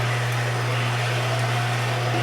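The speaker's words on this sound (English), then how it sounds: "I want you to take some water and run it through your slow juicer." Slow juicer running with water poured through it to rinse it out, a steady low motor hum with a constant whir that holds evenly throughout, with no talking.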